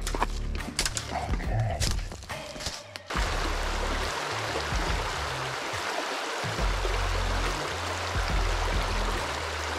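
River water rushes over rocks in a Sierra Nevada creek, a steady broadband hiss after a few seconds of thumps and close handling noises.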